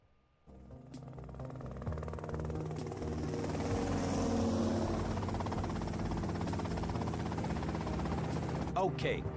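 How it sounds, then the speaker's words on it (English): A helicopter in GTA Vice City whirs with a dense, steady rotor drone that swells in after a moment and holds loud and near, with a few faint clicks and someone speaking over it. "Okay, that's them in the chopper."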